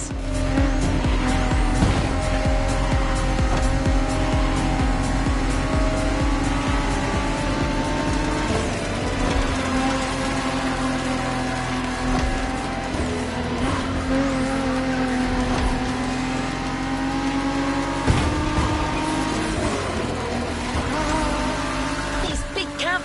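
Cars drifting around a drift track in the racing video game The Crew Motorfest, with steady engine drone and repeated tire squeals running continuously under a loud game mix throughout.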